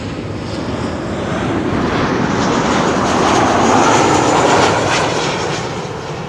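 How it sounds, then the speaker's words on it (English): A Transavia airliner arriving from Olbia at Amsterdam Schiphol Airport roars steadily close by, its broad engine rumble swelling toward the middle and easing slightly at the end, with no voices over it. "Transavia arriving from Olbia."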